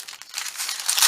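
Paper being cut with scissors while making junk journal tags, a close, dry crinkling and snipping that rises in loudness toward the end, with no voices.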